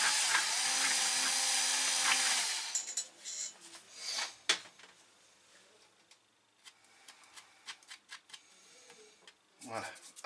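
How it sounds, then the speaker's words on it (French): Drill bit boring a hole through a panel with polystyrene underneath, a loud whirring burst lasting about two seconds, then scattered clicks and handling knocks as someone speaks. "Vous laissez vraiment la mèche travailler."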